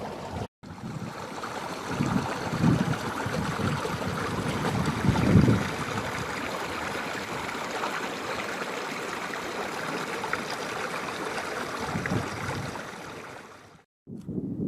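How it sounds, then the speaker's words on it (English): Running water flows through a leat between two prehistoric stone rows on open moorland, a steady rushing murmur mixed with gusty wind buffeting the microphone, no talking. "the sound of running water passing through the two stone rows"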